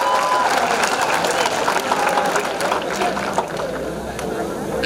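An audience at the Spandan felicitation ceremony applauds students with a steady stretch of clapping and some cheering, fairly loud at first and easing slightly toward the end.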